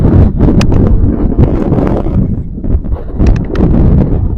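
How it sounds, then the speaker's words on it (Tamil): Strong wind gusts across the old Ranjankudi hill fort, roaring loudly and steadily and buffeting the microphone for the whole stretch. "இந்த காலத்திலே காத்து இப்படி அடிக்குது அந்த காலத்தில் எப்படி இருந்துருக்கு"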